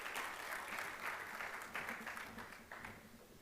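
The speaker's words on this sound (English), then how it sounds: "Please give her a round of applause as she comes to the stage." Applause from a conference audience at an airports cooperation event as a speaker comes to the stage, a steady wash of many hands clapping that swells in bursts and slowly tapers off.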